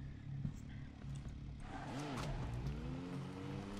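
A vehicle driven in the video game Borderlands 3 rumbles steadily throughout, with engine pitch sweeping and revving mid-clip and a tire-skid quality, alongside game music and effects.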